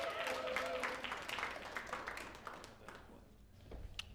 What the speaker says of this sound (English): Round of applause for Neil.